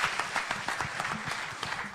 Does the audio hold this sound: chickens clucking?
no